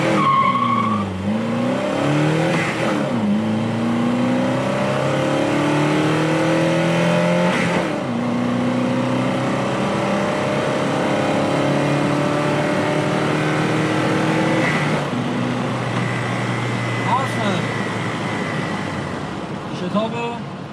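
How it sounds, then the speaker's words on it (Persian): A classic BMW E12 518 with a 1.8-litre engine accelerates hard from inside the cabin, its engine note climbing through several gears with clear drops at each shift, loud and continuous, with a voice speaking over it. "بریم یک شتاب بگیریم از این خودرو."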